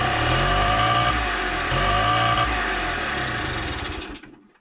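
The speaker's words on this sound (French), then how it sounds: "j'allume et part direct dans les tours alors que j'ai rien demandé" A Honda MTX 50 motorbike engine races on its own at high revs after a carburettor change, loud and close, with a steady droning roar that wavers slightly before cutting out abruptly near the end.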